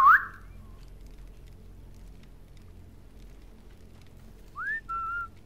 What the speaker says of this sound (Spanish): vamos a poner el silbato,